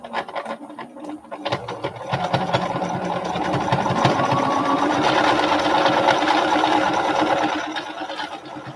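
A sewing machine with a 10D foot stitches an even seam, its steady mechanical whir rising in the middle and running continuously for several seconds before easing off, close and fairly loud with no talk.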